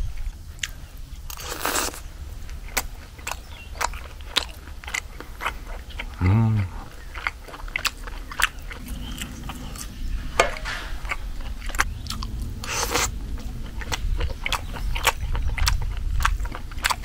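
Someone eats beef for breakfast in a countryside home, with repeated crunchy bites and chewing close to the mic. Voices talk intermittently over the chewing.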